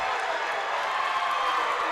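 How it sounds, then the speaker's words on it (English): Basketball crowd at a high school boys sectional championship game between Logan and Wayne reacting to a foul call, a steady dense roar of many voices in a gym, continuous and fairly loud with no clear claps. "And the Wayne crowd does not like the call."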